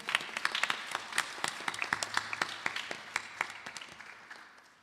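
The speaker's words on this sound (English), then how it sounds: "Please clap for them." An audience applauds for a birthday at a Vasant Navratri gathering, a dense patter of claps near and loud at first, gradually thinning and fading over a few seconds.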